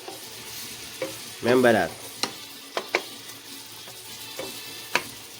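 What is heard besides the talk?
shrimp fried rice stir-frying in a pan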